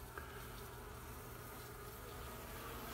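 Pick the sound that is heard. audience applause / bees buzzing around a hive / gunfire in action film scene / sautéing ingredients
bees buzzing around a hive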